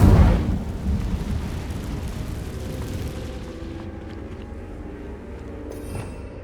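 An Incendio fire spell is cast in the video game Hogwarts Legacy. It begins with a loud, booming, fiery burst that quickly fades into a low rumbling tail, with faint crackles afterward and no speech.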